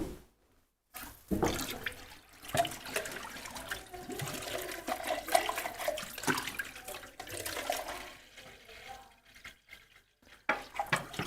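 Fresh water runs from a sink tap in a home workspace, splashing steadily after a brief silent start and then easing off, heard up close with small clinks and drips.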